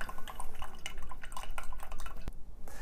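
Salt water, filtered clear of sand and seaweed, drips through a filter in quick, irregular patters, close and fairly soft.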